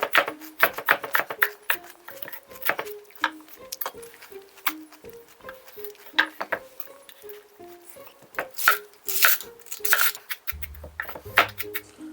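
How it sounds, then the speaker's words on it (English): Shredded cabbage and fennel tumble into a bowl for slaw in a series of light, crisp rustling taps and patters, close and irregular, with brief scraping near the end. "We're just gonna put the cabbage and the fennel right in this."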